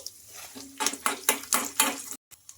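Lentils, cumin and garlic frying in a pan, with a spoon scraping and stirring in a run of short, close, crisp bursts, a brief silence, then a soft resumption.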